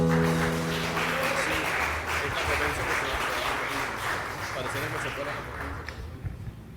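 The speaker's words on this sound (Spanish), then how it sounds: "fuerte aplauso al Señor." Church congregation applauding during a Sunday worship service, a dense, sustained wash of clapping that stays loud throughout and thins slightly toward the end, with some voices mixed in.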